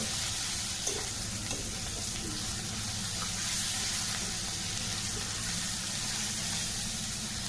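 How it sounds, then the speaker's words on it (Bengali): Spice paste with ginger and garlic frying in a pan, a soft continuous sizzle and hiss with faint stirring, quiet and steady throughout. "এখন আমি ভালো করে আবারও কষিয়ে নিব"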